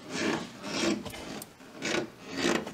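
Dry creaking and rasping from a strut top bearing on a Daihatsu Sirion, a rhythmic rubbing scrape repeating about every half second as the suspension is worked, close and moderately loud with no talk.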